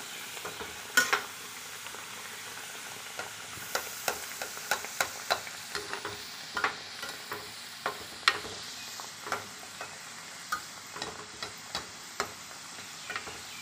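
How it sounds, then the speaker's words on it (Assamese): Food sizzles steadily in a pan while a utensil scrapes and taps in irregular strokes, close and clear with no voices. "লাহে ধীৰে উল্টাই পুল্টাই ভাজি ল'ব।"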